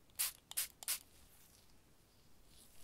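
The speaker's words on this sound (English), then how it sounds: "so, it's just some spray." Spray used to remove markers from a face during a close-up measuring session, three quick hissing bursts near the mic at the start, then a quiet hush.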